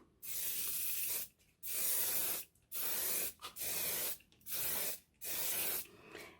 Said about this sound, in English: So what I do is just lightly spray the surface in long motions like this.